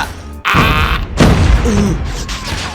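A timed bomb in Call of Duty Mobile blows up in a sharp, loud burst with crashing debris, followed by a rumbling, clattering tail.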